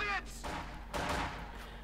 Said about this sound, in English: Explosions going off. Quite big ones too.